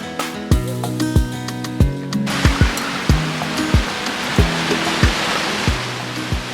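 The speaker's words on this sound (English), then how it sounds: "maintain some distance from the sea because the waves are quite sudden here" Sea waves break on the beach at Lamma Island, Hong Kong, swelling into a steady, loud rushing surf wash, with a rhythmic thumping pulse running underneath.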